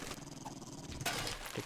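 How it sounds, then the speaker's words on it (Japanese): A dog growls low and muffled from a basement in the survival video game 7 Days to Die, a faint rumbling snarl under quiet game ambience, with a brief sharper burst partway through. "この犬の声は地下室だから大丈夫"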